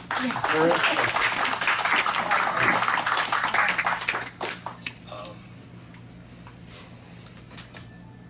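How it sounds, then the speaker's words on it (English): A crowd claps in a burst of applause that fades after about four seconds, leaving a few scattered claps and quiet room noise. "We have a little applause for them."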